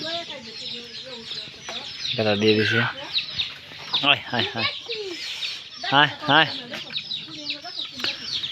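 Angry chickens cluck loudly and agitatedly at close range in short bursts, mixed with excited human exclamations.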